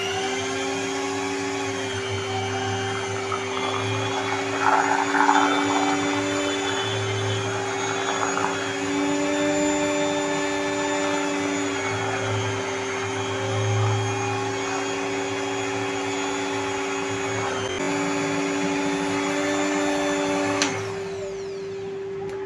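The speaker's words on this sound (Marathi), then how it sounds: "आता आपण हा क्रीम फेटायचा बीटर घ्यायचा आहे आणि ह्याने आपण हे बीट करणार आहे मिश्रण पूर्ण फ्लफी होईपर्यंत" An electric cream beater whirs steadily while whipping an ice cream mixture in a bowl, a continuous close motor hum with slight changes in load, then cuts off near the end.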